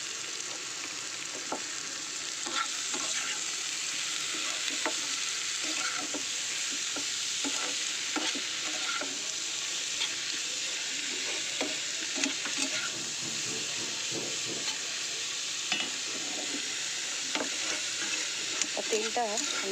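Shrimp frying and being stirred in a pan with a little oil, giving a steady close sizzle throughout with frequent scraping and clinking strokes of the spatula.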